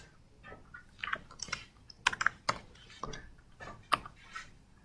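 Computer keyboard keys tap in quick irregular clusters, close and fairly quiet, with brief pauses between bursts.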